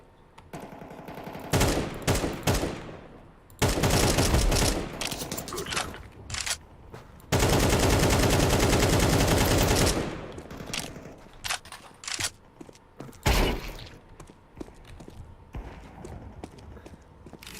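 Gunfire in Counter-Strike 2: bursts of rapid automatic shots and single sharp cracks, loud and close, separated by gaps of quieter mechanical clicks.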